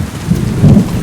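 Rain pours and thunder rumbles in the medieval video game Kingdom Come: Deliverance II, a loud, low rolling boom under a steady wash of rainfall.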